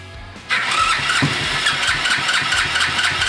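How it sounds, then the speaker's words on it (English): After a brief low whir, a small motorcycle engine upgraded from 70cc to 140cc catches abruptly and settles into a steady, buzzy idle with a fast, regular putter, close up. "let's see if we can turn it over. Here we go."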